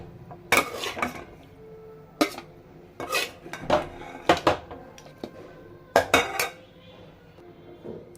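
Fried chicken lifted out of a metal pot onto a plate, with a series of sharp clinks and scrapes of a utensil against cookware in uneven bursts, close and fairly loud, with no talking.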